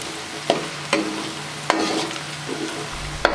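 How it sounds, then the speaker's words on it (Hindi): Ginger and garlic fry in a pan with a steady, soft sizzle, while a spoon stirs and scrapes the pan a few times in sharp, irregular taps. No one speaks. "अदरक लहसुन फ्राई हो चुका है।"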